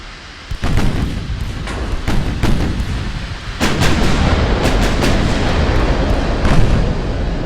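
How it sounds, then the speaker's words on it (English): Big battleship guns in Ultimate Admiral: Dreadnoughts fire in a run of heavy booming blasts. Several sharp reports at irregular intervals roll into a loud, sustained rumbling barrage, close and dominant. "the fireworks when these big guns open up"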